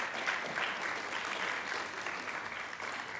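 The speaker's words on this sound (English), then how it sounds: "Let's give them a round of applause." Applause from a modest crowd at a board meeting, a steady patter of clapping heard from some distance, fairly faint and continuous throughout.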